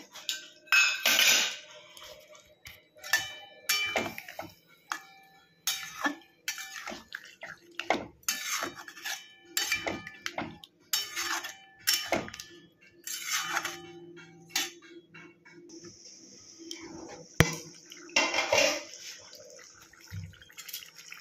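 Water rinsed from a bowl and poured into a pan of cauliflower korma with whisked yogurt: soft splashing and sloshing mixed with close clinks of a spoon against metal cookware, in scattered bursts.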